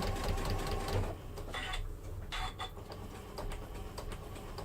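A sewing machine fitted with a walking foot stitches quilted fabric for clothing decoration. It runs steadily and close by with a fast mechanical ticking, with slight shifts in pace and no talking.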